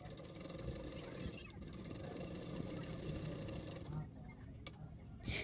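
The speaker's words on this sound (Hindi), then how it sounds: "तो मैंने 1/2 इंच मार्जिन रखते हुए बेल्ट को सिलाई कर रही हूँ।" A sewing machine runs steadily while stitching a blouse belt with a half-inch margin, a continuous mechanical whir close by that stops near the end, with a brief clunk after it.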